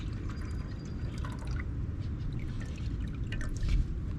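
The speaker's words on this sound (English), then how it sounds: "I'm going to pour that out." Water from a pond test sample is poured out near an outdoor pond, giving a steady low splashing and trickling wash with scattered drips throughout, fairly quiet and without speech.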